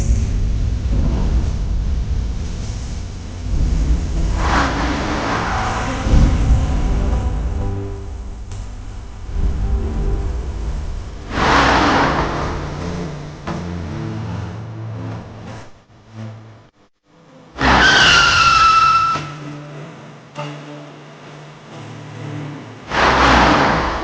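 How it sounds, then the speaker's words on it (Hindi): Car engine revving hard and accelerating at speed, with loud surging passes, a brief near-silent gap, then a sharp high squeal of skidding tires. "Rishi please please drive slow,"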